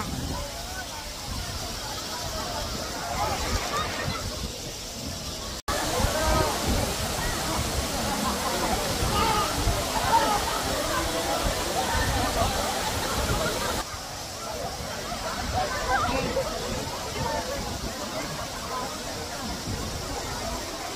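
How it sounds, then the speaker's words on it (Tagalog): Rushing water of Daranak Falls in Tanay, Rizal pours steadily and loudly throughout, a dense continuous roar with voices of a crowd talking underneath. "Welcome to Daranak Waterfalls ng Tanay Rizal."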